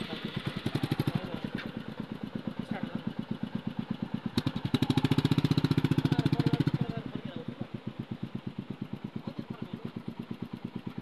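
A motorcycle engine runs steadily at close range with a rapid, even putter, swelling louder for a couple of seconds midway before settling back to a steady idle-like rhythm.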